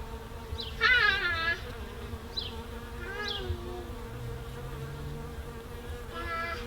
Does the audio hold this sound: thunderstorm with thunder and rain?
no